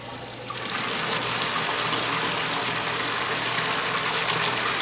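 Water runs steadily through a Bradley Navigator thermostatic mixing valve at a low flow of a gallon or two a minute, rising from quieter onset into a constant, close hiss with no talk.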